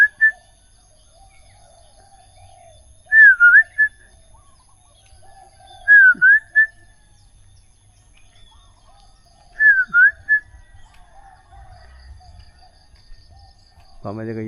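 Birds call on an early morning in Chiang Mai, Thailand: three separate bursts of bright chirping spaced a few seconds apart, fairly close and clear over a quiet background with faint insect-like hum.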